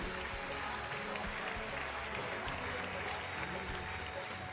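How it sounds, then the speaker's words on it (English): Steady, dense applause from an awards ceremony audience in Goa fills the hall, continuous and even for several seconds with no breaks. "Huge applause for him, please."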